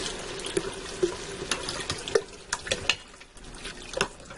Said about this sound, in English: I'm stirring this up to get my spices nice and well incorporated in there